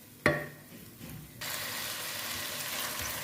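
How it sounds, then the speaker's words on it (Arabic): A sharp clack at the start, then chicken and onion start frying in a pan with a rising, steady hiss that carries on loud and continuous to the end, with no voices. "شوفوا تقلى لنا هذاك الدجاج"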